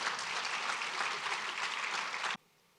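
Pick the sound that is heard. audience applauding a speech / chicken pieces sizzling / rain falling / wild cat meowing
audience applauding a speech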